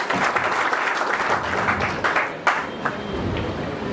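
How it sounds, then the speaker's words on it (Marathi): Audience applause welcoming the organisers at the opening session of a Malvani dialect literature conference in Mumbai, a steady wash of many hands clapping throughout, fairly loud and continuous with no talk over it. "असं आपण एकदा आयोजकांचे टाळ्या वाजवून जोरात स्वागत केलं."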